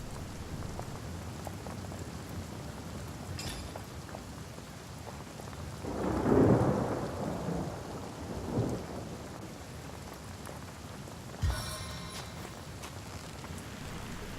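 Steady rain falls in the Divinity: Original Sin Enhanced Edition game world, with a low rolling rumble of thunder swelling in the middle and a sharper crack later, all under a constant patter.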